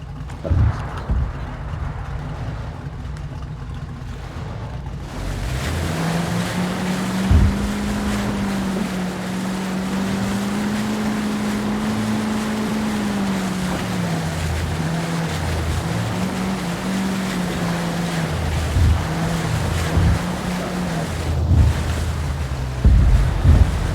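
A video game boat engine drones steadily on open ocean during an amphibious night raid on a convoy. The engine starts after a few seconds of quiet, then holds a loud, wavering hum over the constant wash of waves.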